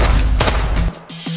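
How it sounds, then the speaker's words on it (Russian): Fireworks set off by neighbours, a loud close crackling volley of rapid bangs that stops abruptly, followed by a few fainter pops. "там соседи опять салют запускают?"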